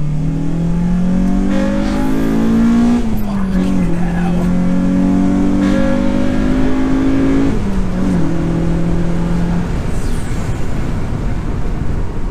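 A 2005 Honda Civic EP3 Type R fitted with a TSS induction kit revs loudly and climbs through gears, its engine note rising in several pulls with brief dips between shifts, close up inside the car while a man swears over it.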